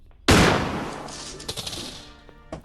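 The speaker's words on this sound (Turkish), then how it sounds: "Merdivenden tam aşağı indiğinde vuracağım" A single loud gunshot in the horror video game Granny, a sharp close blast followed by a decaying echo and a few smaller thuds and clatters.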